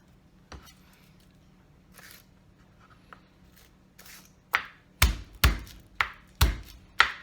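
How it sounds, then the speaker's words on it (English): Garlic cloves whacked with the flat side of a kitchen knife blade on a cutting board, a run of six sharp, close thumps in steady succession after some quieter handling noises. "To peel this garlic, I'm just giving it a good whack with the flat side of the blade of my knife"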